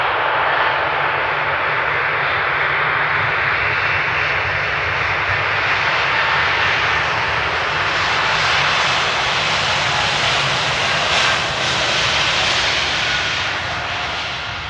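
A loud, sustained roar from an airplane taking off at Amsterdam Airport, a broad, steady engine rumble that holds for the whole stretch and eases slightly at the end.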